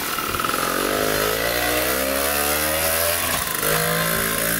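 Rare 50cc motorcycle engine with its carburetor side cover removed runs loudly and close, buzzing and rising and falling in pitch as it revs, with a brief dip before picking up again.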